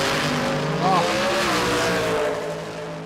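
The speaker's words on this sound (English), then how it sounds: "You could hear it hassle the big tyre there off the line." A nitro drag racing car on the big tyre launching hard off the line at Warwick Dragway, Australia, heard as a loud sustained engine roar with a rising whine, and a commentator talking over it.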